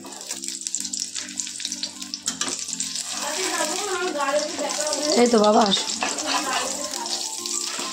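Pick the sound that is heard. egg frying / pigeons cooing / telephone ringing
egg frying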